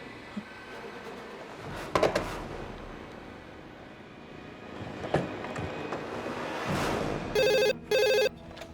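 A telephone rings in two short, loud electronic bursts toward the end, coming after a stretch of quieter room noise and a few clattering thumps.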